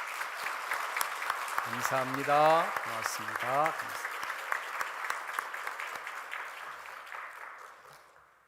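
A church congregation claps through a sustained round of applause during a Sunday service, the clatter filling the room while a voice speaks briefly over it before the clapping thins out.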